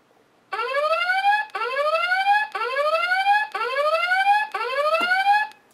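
A visual countdown timer for autism support rings its alarm after ten seconds: five loud, evenly spaced rising electronic chirps, each about a second long, repeating in a steady rhythm with no talk.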